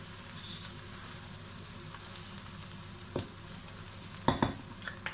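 Beef for an Indian-style dish being stirred in a pan to coat it in its fat: a soft, steady frying hiss with a few sharp scrapes and clatters near the end, fairly quiet.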